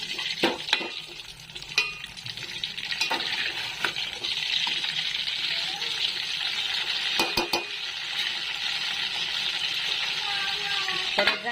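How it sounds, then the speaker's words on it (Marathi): Eggplant frying in a pan for a thin spicy curry, a continuous close sizzle broken by scattered clinks and scrapes of a utensil turning the pieces, with no talking. "मी वांगी पण इकडे तळत आले चांगली"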